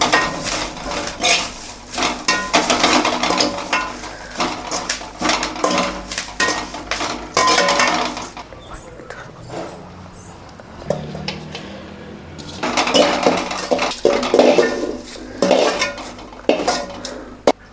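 Curry leaves roasted in a pan and stirred: a spatula clatters and scrapes against the metal in busy bursts, pauses briefly, then resumes with loud rattling and scraping over a faint crackle.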